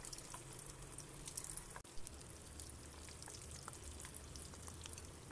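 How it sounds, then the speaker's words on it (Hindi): Potato kofta balls frying in hot oil in a kadhai, a steady, dense crackle and hiss that runs throughout with a brief dip partway, fairly quiet and with no voices. "हमारा तेल जो है यहाँ पर अच्छे से गर्म हो गया है, तो अब जो है हम लोग इसको फ्राई करेंगे"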